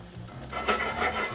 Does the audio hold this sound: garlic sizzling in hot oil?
yes